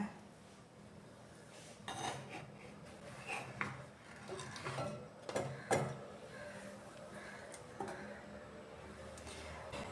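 Soft scraping and clinking of a utensil against a pot and dish while serving coconut-ground sardine fish curry, a series of faint irregular taps and scrapes in a quiet kitchen.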